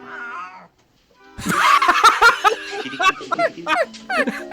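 A person imitates a cat's meow off camera with a drawn-out, nasal mew, followed by a brief pause and then a burst of close, lively chatter.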